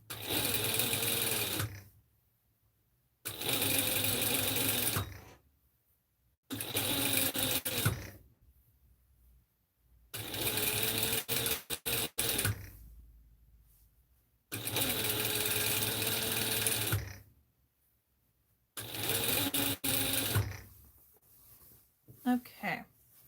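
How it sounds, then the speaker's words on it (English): A sewing machine stitches fabric in several bursts of fast, steady whirring, each a few seconds long and separated by silent pauses, close and clear. "I'm just in the middle of sewing."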